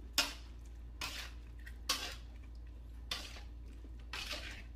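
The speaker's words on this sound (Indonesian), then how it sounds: "kita aduk dulu" A spoon scrapes and stirs food in a cooking pan in five distinct strokes about a second apart, close but fairly quiet over a low background hum.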